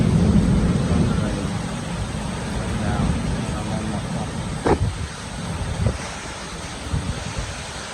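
Gusting strong wind in a rainy storm in the Philippines, a loud blustery roar buffeting the microphone, with people talking indistinctly under it and a few knocks partway through.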